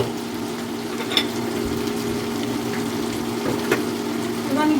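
Shrimp and vegetables frying in a pan, a steady close sizzle with a few sharp clinks of a utensil stirring against the pan.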